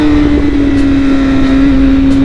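A 600cc sport motorcycle engine holds a loud, steady high-revving drone during a wheelie on a bumpy road, close and constant throughout with wind noise and no talking.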